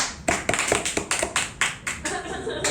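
A small audience at a talent show claps irregularly, with a dozen or so sharp, separate hand claps spread over a couple of seconds rather than a full ovation.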